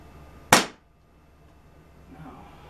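An air pistol fires a single sharp, close crack followed by quiet room tone and a faint soft rustle afterward.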